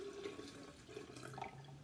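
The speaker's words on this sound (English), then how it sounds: "you're going to go to your sink and fill up your measuring cup" Running water pours steadily from a sink tap, a continuous hiss and gurgle as a measuring cup fills up, close by with no talking.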